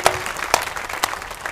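An audience claps at an outdoor village kirtan for a religious death-anniversary gathering in Salshingi, a loud, dense burst of many hands with sharp swells recurring about every half second.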